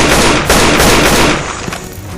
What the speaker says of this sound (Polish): muszę szybko odpalić armatkę! TNT!